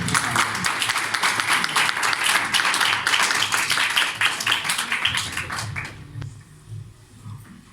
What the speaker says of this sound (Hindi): आप सबकी भरपूर तालियों।